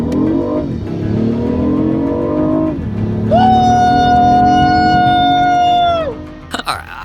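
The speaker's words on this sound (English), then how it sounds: "got in the car, started it up" A BMW i8 sports car starts up and revs hard, engine pitch climbing in two rising sweeps before settling into a sustained high, whining rev that drops off sharply near the end, loud and close.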